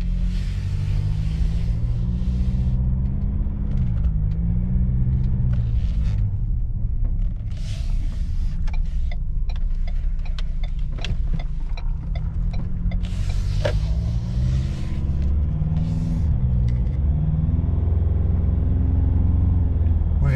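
A car cruises at about 40 km/h with a wheelbarrow strapped to its roof rack, giving a steady low road rumble and engine drone throughout, with no strap whine standing out and no one talking.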